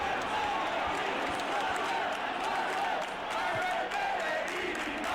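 Constant loud stadium crowd cheering at La Rosaleda in the PES 2013 football video game, a wide, steady wash of noise with faint commentary beneath it.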